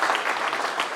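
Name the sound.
audience applause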